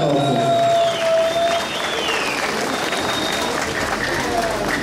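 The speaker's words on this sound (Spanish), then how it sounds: "Fuertes los aplausos." Crowd applause at a December calenda festival in Tlahuitoltepec, a broad wash of clapping that holds steady throughout, with thin whistle-like tones drifting above it.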